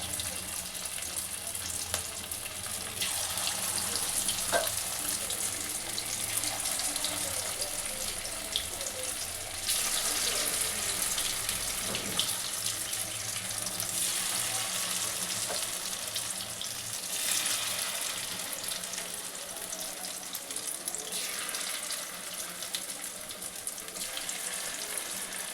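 Fish pieces sizzling steadily in hot oil in a home kitchen, a continuous close frying hiss with small crackles and a few brief clinks across the span, without talk.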